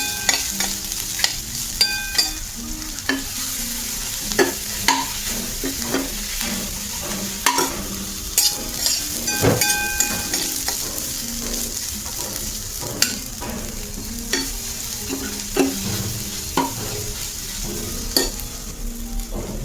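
Onion and moth beans stirred and roasted in a pan for Kolhapuri-style misal, with a steady sizzle and frequent scraping spoon strokes against the pan, close and continuous, no talking.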